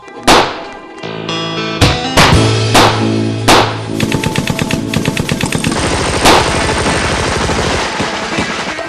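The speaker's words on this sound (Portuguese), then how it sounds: "toda a tropa dispara contra o bando" A loud, close volley of gunshots as troops fire on a bandit gang, sharp single blasts followed by rapid overlapping bursts of automatic fire.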